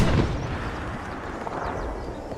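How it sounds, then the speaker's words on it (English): A frag grenade goes off in a team-based war video game, a heavy blast at the very start that decays into a low, rumbling wash of combat ambience. "That was a frag."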